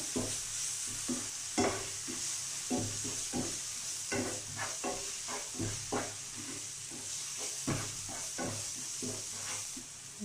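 Steady sizzling of spiced beef frying in a pan with tamarind water, with repeated scraping strokes of a spoon stirring through it, close and continuous, no voices.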